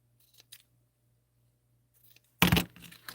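Scissors trim the ends of paper and ribbon at a craft stamping table: a few faint snips followed by one loud, close, crisp cut near the end.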